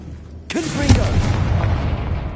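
A Confringo fire spell from Hogwarts Legacy bursts with a sudden loud boom, followed by a rumbling, crackling tail of debris that slowly fades, with no speech over it.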